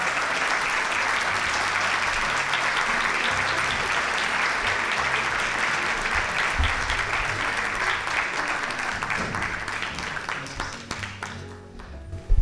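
An audience at the Instituto Salvatierra in Mexicali gives a long, full round of applause welcoming a priest speaker, broad even clapping from many hands holding steady before thinning out at the end.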